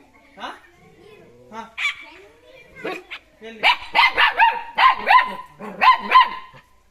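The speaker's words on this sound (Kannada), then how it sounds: "ಈ ನಾಯಿ ಮರಿ ಬೇರೆಯವ್ರ ಮನೆ ನಾಯಿ ಬಂದ್ರೆ ಮಾತ್ರ ಕೂಗೋದು" A small dog yaps and barks repeatedly, high-pitched and close, the barks coming faster and louder in a run toward the end.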